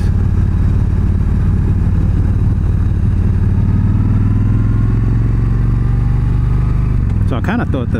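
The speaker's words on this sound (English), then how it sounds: "Here, old Kawasaki, nice." An old Kawasaki motorcycle engine runs close by with a steady, throbbing mid-pitched drone that slowly rises in pitch, then ends abruptly with a few clattering knocks.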